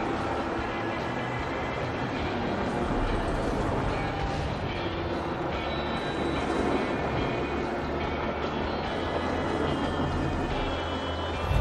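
A mine train roller coaster in the video game Planet Coaster rumbles and clatters along its track in a continuous, dense roar with no voices.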